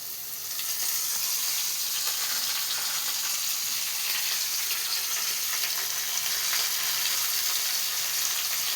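Leafy greens added to a hot pan of frying vegetables sizzle with a continuous, even hiss that stays steady and close, with no talk.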